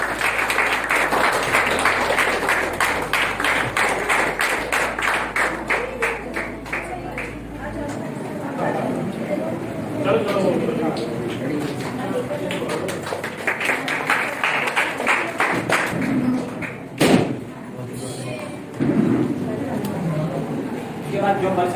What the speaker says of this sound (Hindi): बेटी के लिए जोरदार तालियां।